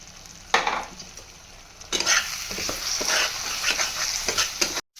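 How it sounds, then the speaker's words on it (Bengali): A ground paste of cashew, poppy seed and fennel goes into hot oil and spice masala in a kadai. It sizzles loudly in two bursts, then keeps crackling under scraping stirs, with no talking. "এপাশে কড়াইয়ে যে মশলাটা তেল ছেড়ে দিয়েছে, এবার আমি কাজু বাদাম আর পোস্ত আর মৌরি বাটাটা দিয়ে দেবো।"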